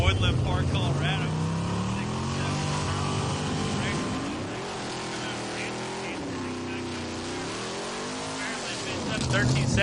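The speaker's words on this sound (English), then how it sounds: "Jeff's truck coming out of Woodland Park, Colorado." Jeff's drag-racing truck from Woodland Park, Colorado roars down the strip at Hot Rod Drag Week in Great Bend, Kansas, a loud sustained engine rising and falling in pitch through the run, with an announcer talking over it.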